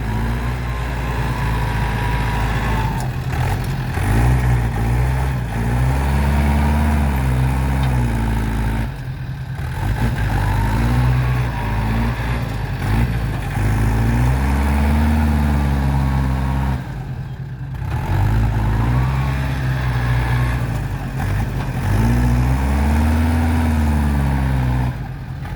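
A loud diesel tractor engine running steadily nearby, a deep throbbing rumble that rises and dips slightly as it works.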